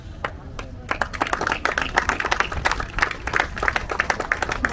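Audience applause at the inauguration of an inclusive playground in Cosenza, beginning with a few scattered claps and swelling after a second into dense, loud clapping that continues to the end.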